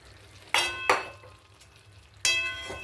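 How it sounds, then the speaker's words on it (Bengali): Fried potatoes tipped into a simmering Bengali bata fish curry with banana flower, giving two quick clinking splashes of pieces dropping in, a pause with a soft simmer, then another clattering drop near the pot. "এইবারে ভাজা আলুটা আমি দিয়ে দেব।"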